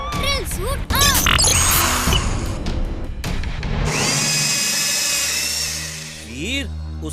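A cartoon robot boy's drill suit powers on in a burst of crashing, whirring mechanical effects, followed by a steady high-pitched motorized whine that fades, loud and close with layered sci-fi sounds.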